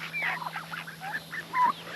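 Runner ducks on a homestead give a quick flurry of nasal quacks and honking calls that overlap one another, close and fairly soft.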